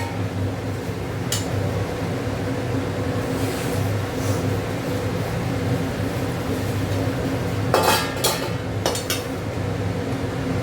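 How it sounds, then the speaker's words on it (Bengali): Boiled peas being stirred into chicken ghugni in a pan, a steady low kitchen hum with a few scattered scraping and clinking bursts from the spoon against the pan near the end. "ভালো করে নেড়ে দিই।"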